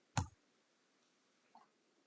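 Two sharp computer mouse clicks, one loud and close and a fainter second about a second and a half later, in an otherwise quiet room.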